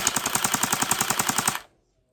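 A TG HK416 V2 gel blaster fires a full-auto burst, a fast, even string of about fifteen sharp mechanical cracks lasting roughly one and a half seconds, then stopping abruptly into silence.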